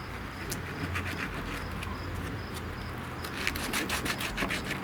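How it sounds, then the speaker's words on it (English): Very coarse 36-grit sandpaper scrubs plastic car interior trim in a steady, continuous rasping rub. It is close and fairly even, with a few brighter scratchy strokes near the end and no voices. "Real rough sandpaper that I'm using here."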